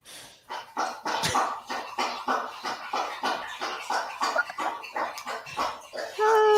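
Several dogs bark in short repeated bursts throughout, indoors at close range, with a steady rhythm of sharp yaps and barks and a brief higher whine near the end.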